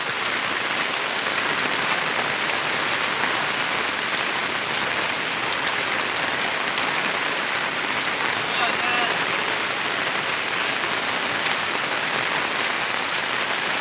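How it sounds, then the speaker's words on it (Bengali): Heavy rain pours down across a village market area, a steady dense hiss of drops hitting surfaces that holds evenly from start to finish with no break. "গ্রামের মধ্যে এভাবে বৃষ্টি হচ্ছে"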